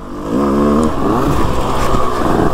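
A GasGas 125 motorcycle engine revs up loudly and close, its pitch rising and wavering through the run.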